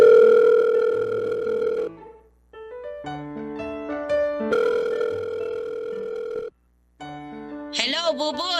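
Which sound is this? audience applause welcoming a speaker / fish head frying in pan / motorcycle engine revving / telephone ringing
telephone ringing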